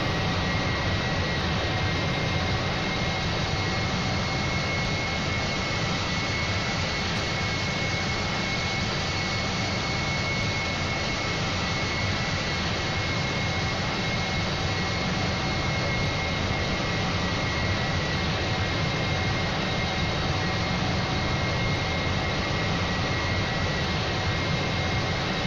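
Airplane jet engines in the GeoFS flight simulator produce a constant, even roar with a faint steady whine, unbroken and unchanging throughout, with no other sounds.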